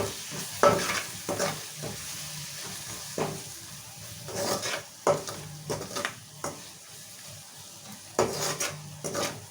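A spoon stirs okra curry with ginger garlic paste frying in a pan, with uneven scrapes and knocks against the metal over a soft, steady sizzle, close by and with no voices.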